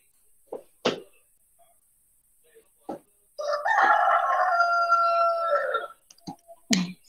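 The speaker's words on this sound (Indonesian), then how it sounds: "Ini ayam tidak tahu datang dari mana ini." A rooster crows from the middle distance, one long drawn-out call lasting a couple of seconds, with a few short knocks and clicks before and after it.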